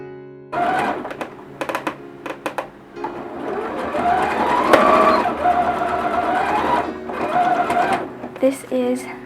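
A sewing machine stitches a small fabric mini bag, its needle running in steady, close bursts of whirring and clatter with brief pauses between runs, while a person talks throughout.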